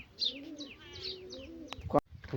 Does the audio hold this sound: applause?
no